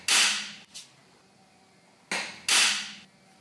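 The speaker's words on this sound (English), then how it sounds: "I'll center punch where they go." Three or four sharp metallic strikes of a hammer on a center punch, marking screw hole spots on sheet metal for a bomber seat, sounding close and loud in an irregular pattern with brief pauses between blows.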